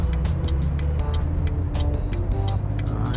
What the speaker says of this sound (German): Oh, da kommt noch ein LKW.